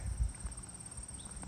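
A horse walks in the open with slow, irregular clip-clopping hooves, low and close, over a steady faint high whine.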